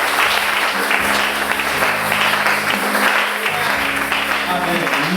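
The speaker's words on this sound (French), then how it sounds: "applaudissez pour le Seigneur." A congregation at a French-language prayer service applauds, a dense and steady wash of clapping that fills the full five seconds at close range, with low sustained tones running beneath it.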